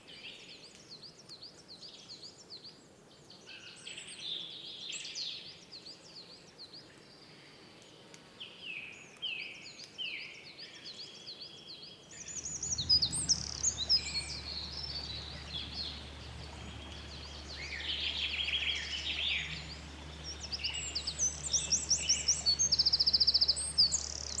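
At least two different male forest birds sing in woodland, repeated high trilling and whistled phrases, with a low steady hum joining partway through.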